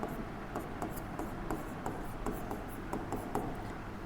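Quick strokes of writing on a board during an organic chemistry lesson, a rapid series of light scratchy taps and rubs in short bursts, close and fairly faint.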